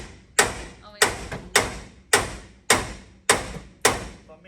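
A big hammer strikes a car body seven times at a roughly even rhythm, each blow a sharp metallic bang with a short ringing decay, close and loud.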